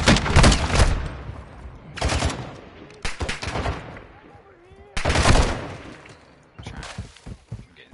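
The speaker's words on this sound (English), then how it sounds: "You are taking effective fire." Video game gunfire rattles in heavy automatic bursts, loud and close, with dense overlapping shots in several waves separated by brief lulls as battle noise continues underneath.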